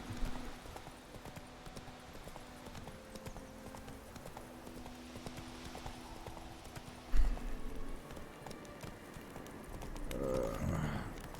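Hooves of Roach, Geralt's horse in The Witcher 3, beat a steady galloping clip-clop at moderate volume over game music and ambience, with a brief thump and a louder rustling swell near the end.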